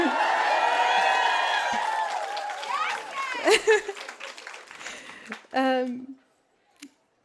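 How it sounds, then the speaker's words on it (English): An awards-ceremony audience cheers and claps in a broad wash of crowd noise that trails off into a few scattered claps, with talk mixed in. "Yes, please do cheer, why not?"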